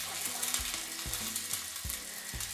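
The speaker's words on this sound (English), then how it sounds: "So you can hear the sizzle, we know it's ready." Steady, dense sizzle of egg noodles frying in hot oil, loud and close, with occasional low knocks of utensils against the pan.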